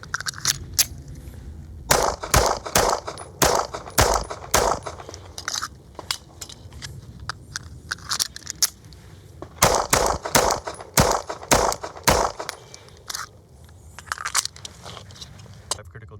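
A 9mm pistol fires Hornady Critical Duty 135-grain rounds in fast strings of loud, sharp shots with short pauses between the bursts, heard up close.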